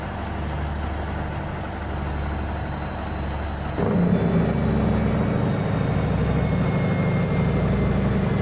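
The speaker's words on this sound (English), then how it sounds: "There's a plane taking off the other way." A plane takes off nearby at a ranch with an airstrip in American Truck Simulator, a sudden swell of loud broad engine roar kicking in midway over a steady truck idle rumble.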